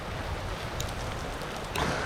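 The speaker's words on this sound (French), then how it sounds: "Mais là, il pleut bien, hein, vraiment." Heavy rain falling on Réunion Island, a dense steady hiss of drops with a brief louder splash near the end, close and fairly loud, no talk.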